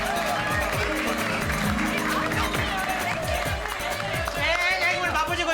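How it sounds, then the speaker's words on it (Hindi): Applause and cheering from a crowd in the Gokuldham Society, steady claps under lively chatter and background music, with voices carrying over the clapping throughout. "सब लोग बबीता जी के लिए एक बार ताली बजाइए"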